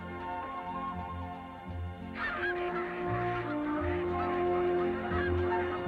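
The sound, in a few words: flock of geese honking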